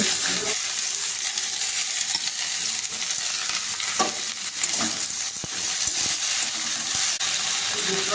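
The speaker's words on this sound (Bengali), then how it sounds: "এইগুলোকে ভালো করে ভেজে নিয়ে সবজির খোসাগুলো তুলে দেব।" Crushed garlic, green chillies, cumin and other whole spices frying in hot oil in a pan, then vegetable peels added: a steady, close sizzle runs throughout with occasional scrapes and clicks from stirring.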